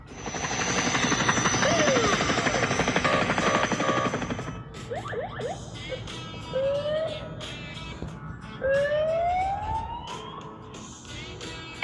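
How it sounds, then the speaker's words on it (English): A helicopter's loud, dense rotor and engine roar fills the first few seconds, then gives way to upward-sweeping siren tones and quieter traffic noise. "Helicopter."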